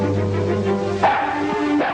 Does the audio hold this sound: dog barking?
yes